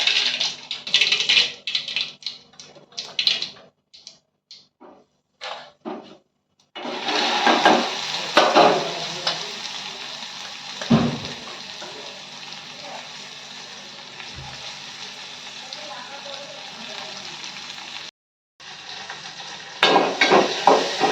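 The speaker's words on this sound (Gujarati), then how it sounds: "હવે આપણે વઘારી નાખીએ ભીંડાનું શાક" Chopped okra tempered in hot oil for a Gujarati sabzi, giving loud crackling and spattering bursts that stop and start with short quiet gaps between them.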